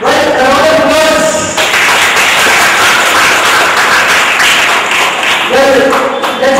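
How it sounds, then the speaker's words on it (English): A round of audience applause at a school judging event, broad continuous clapping that swells after a voice speaks, then fades as talk returns. "Well, a round of applause."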